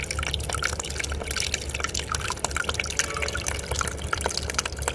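Mini brushless DC pump JT160 running at 12 volts and spraying water, a faint, continuous hiss and spatter of droplets over a low steady hum.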